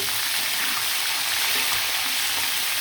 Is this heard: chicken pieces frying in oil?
yes